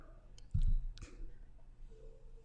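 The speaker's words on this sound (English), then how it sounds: "Now we can click on upload." Mouse clicking the upload button in the Arduino IDE: a sharp close click standing out from quiet room tone, followed by a few fainter ticks.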